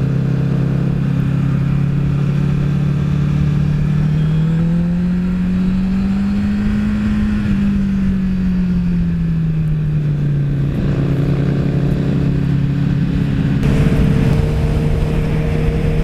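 A Honda CBR650F motorcycle engine hums steadily while riding, a loud continuous drone whose pitch rises and falls gently with the throttle, with rushing wind noise alongside and no talking.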